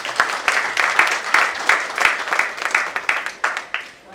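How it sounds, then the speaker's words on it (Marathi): An audience at an award ceremony applauds for a madam and sir, giving a run of distinct, fairly close claps in an uneven rhythm that rise and fall in waves of moderate loudness. "मॅडमसाठी आणि सरांसाठी एकदा टाळ्या."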